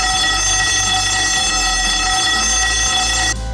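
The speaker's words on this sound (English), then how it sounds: "The second component is the emergency evacuation procedure. If you hear this alarm" Emergency evacuation alarm at the World Trade Center Kuala Lumpur: a loud, steady electronic tone with a low pulsing undertone, sounding continuously for several seconds before cutting off abruptly near the end.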